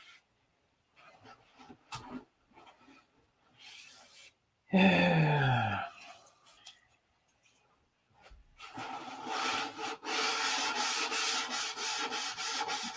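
Hand sanding the wing leading edge of a P-47 aircraft, with short intermittent rubbing strokes, a loud groaning squeal in the middle, then a sustained steady abrasive rasp toward the end.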